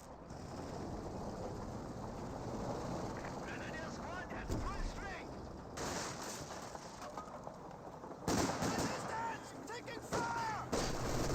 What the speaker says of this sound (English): Rocket grenade fired. Gets a decent hit there.